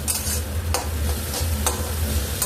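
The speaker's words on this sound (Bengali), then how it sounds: "এবার একটু নাড়বো। সর্ষে বাটাটা একটু ভাজা ভাজা হয়ে যাবে" Mustard paste being stirred as it fries in a pan, with a steady sizzle and repeated scraping strokes of a spoon at an uneven rhythm, close up with no talking.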